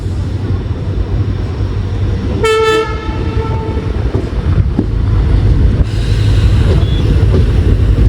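WDM3 Alco diesel locomotive on shunting duty near Yesvantpur and KSR Bengaluru, its engine rumbling loud and steady throughout, with one short, sharp horn blast early on.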